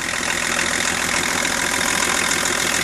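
A BMW M51 six-cylinder diesel engine running close by, with a loud, steady, unbroken idle that has a rough, knocking edge throughout.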